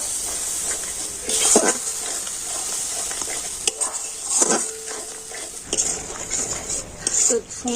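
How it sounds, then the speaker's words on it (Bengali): Spices for a soybean and capsicum curry sauté in a pan with a little water, making a continuous sizzle broken by repeated scraping strokes of a spoon against the pan, close and fairly loud. "এখন আমি সমস্ত মশলাগুলো খুব ভালো করে কষে নেব"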